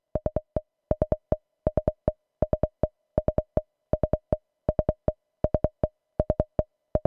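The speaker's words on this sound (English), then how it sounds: "Each of the 4 VCAs is sending a signal to ping Collide 4." A Collide 4 synth module pinged by a four-step sequencer: repeating clusters of short, bright, pitched plucks in a steady looping rhythm, crisp and isolated against silence.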